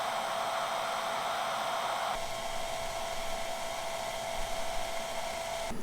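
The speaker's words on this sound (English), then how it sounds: "I switched from the low hairdryer setting to the high and it didn't like that" A hair dryer switched to its high setting and powered by an EcoFlow R600 portable battery generator gives a loud, steady airy whoosh. Its tone shifts a couple of seconds in, then it keeps running evenly throughout with no talking.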